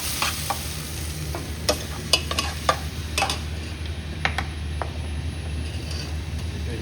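Onions and tomato frying in a pan, stirred with a utensil: a steady low sizzle runs throughout, broken by sharp scraping clicks and taps of the spoon at uneven intervals, close and alone without talk.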